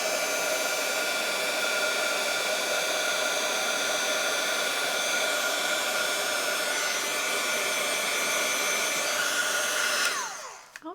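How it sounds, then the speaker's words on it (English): A craft heat tool blows steadily to melt embossing powder, a loud continuous hair-dryer-like whoosh running alone for about ten seconds before switching off abruptly. "I'm going to let my heat tool heat up and then I'll melt the powder"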